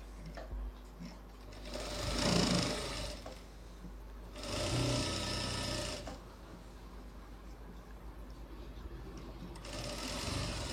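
A sewing machine stitching the neckline of a designer blouse, running in three separate bursts of rapid mechanical whirring with quieter pauses between, close and clear, with no talking.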